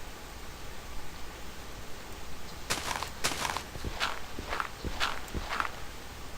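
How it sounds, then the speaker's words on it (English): Minecraft skeletons walking in a cave, a short run of soft, distant footsteps over a steady hiss of background noise, heard alone without talk. "I think it was just a couple of skeletons walking by in a cave."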